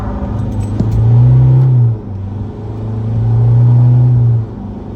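A tuned 2022 Isuzu D-Max pulls hard on a main street, its engine droning up through two loud rising runs of acceleration with a short dip between, close and steady, no talking.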